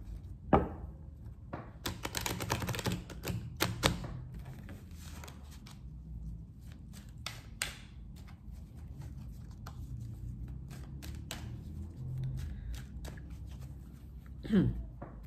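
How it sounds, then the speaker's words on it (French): Oracle cards are shuffled by hand during a tarot-style reading, giving soft papery riffles and taps with a few sharper clicks, heard close under a low background hum. "on va utiliser l'oracle des miroirs et on va mélanger un peu quand même"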